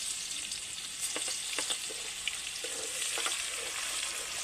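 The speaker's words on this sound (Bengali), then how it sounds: "আদা রসুনটা খুব সুন্দর ভাজা ভাজা হয়ে গেছে" Ginger garlic paste fries in oil in a wok, giving a soft, steady sizzle with a few light stirring scrapes and no voices.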